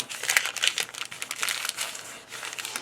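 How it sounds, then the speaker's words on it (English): Paper bags trimmed to twelve inches are folded in half, giving close, crisp crinkling and rustling in rapid irregular bursts that run the whole time, with no voices. "So I cut them to 12, and then I just fold them in half."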